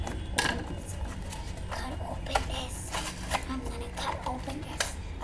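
Slime packaging being cut open with scissors: a series of small crisp snips and plastic clicks spread across several seconds, close and moderately quiet over a steady low room noise.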